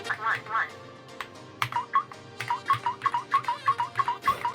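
A SKYLOONG GK104PRO gaming mechanical keyboard with KTT Rose Sea Blue switches plays short electronic beeping sound effects on each keypress, a quick run of bright chirps that quickens toward the end, heard close over a faint low background.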